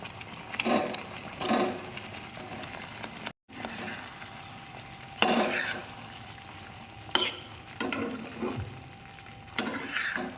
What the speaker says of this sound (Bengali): মশলাটা বেশ খানিকক্ষণ কষালাম। এবার এর মধ্যে দিয়ে দেবো এই পনিরগুলো।